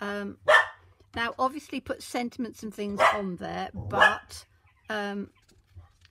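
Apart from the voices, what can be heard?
pet dog barking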